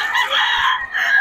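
Chickens offered for sale at a busy open-air market in Bocaue, crowing and clucking steadily at close range over a bright, dense background of bird calls with no pauses.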